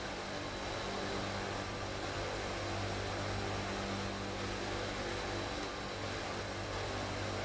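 Steady, loud drone of C-130 Hercules turboprop engines in a flight simulator, a continuous broadband roar with low tonal hum holding evenly throughout, with no talk over it.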